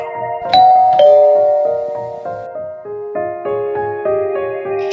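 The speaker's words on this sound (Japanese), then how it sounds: "少し迷いながらも、インターホンを押してみることにした。" A bright electronic intercom doorbell chime rings out alone, with clear, sustained melodic tones stepping through several notes and fading between strikes.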